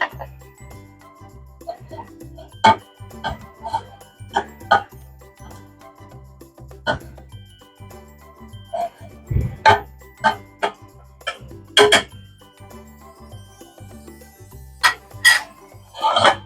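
Caramel custard mixture being stirred in a pressure-cooker pot, with sharp metal clinks and taps from the utensil against the pot. The strikes come in irregular bursts at close range, and a quiet hum runs underneath.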